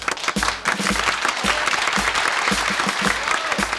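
Studio audience applause in a Turkish sitcom, a lively burst of clapping that starts sharply and continues steadily, with some rhythmic accents within the crowd.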